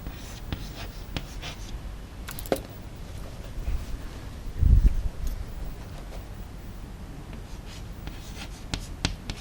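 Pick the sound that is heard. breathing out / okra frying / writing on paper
writing on paper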